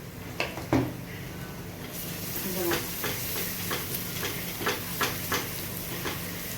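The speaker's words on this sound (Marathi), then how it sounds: "आता ती फोडणी आहे ना आपल्याला त्या बटाट्यावर टाकायची आहे" Hot garlic tempering is poured over cooked potatoes, setting off a sudden close sizzle that keeps hissing while a spoon scrapes the pan in a steady rhythm of stirring strokes.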